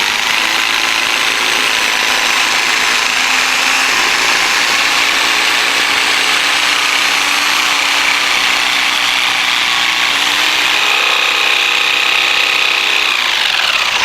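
A jigsaw cuts along the profile of a crown molding, working from the back side. It is a loud, continuous buzzing rasp close by, shifting slightly in pitch as the blade turns, with no talking.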